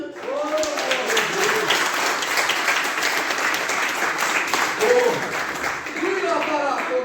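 A church congregation applauds with sustained, dense clapping, joined by cheering voices and shouts that rise and fall throughout.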